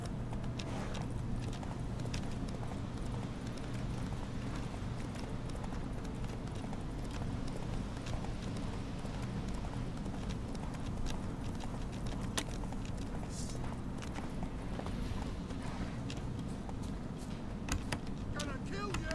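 A horse's hooves clip-clop in a steady galloping rhythm in The Witcher 3 video game, continuous and moderately loud throughout, with occasional character voices in the background.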